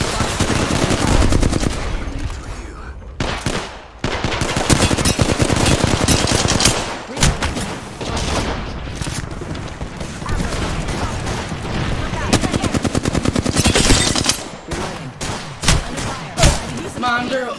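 Dense automatic gunfire and rapid shots in an Apex Legends battle, loud bursts nearly continuous with brief gaps, with voices talking over the action.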